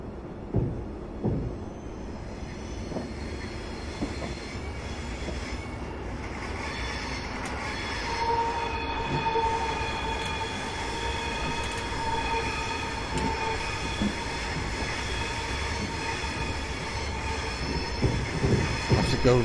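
A train in Train Simulator 2015 runs along the Portsmouth route, a steady rolling rumble with rhythmic wheel clacks and drawn-out metallic squeals and whines rising over it, without any speech.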